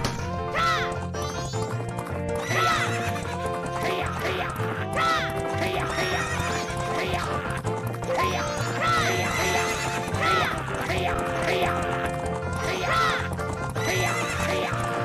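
Horses in the video game Majora's Mask neigh and whinny repeatedly over continuous galloping hoofbeats and game music, loud and busy throughout with no talk.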